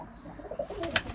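Pigeons cooing in a loft, including a roller cockbird, with a couple of short soft coos and a brief flutter, close and alone.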